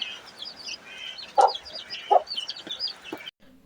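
A backyard hen clucks with her brood of about ten fifteen-day-old chicks, two louder clucks standing out over rapid high peeping from the chicks, close by with no talk.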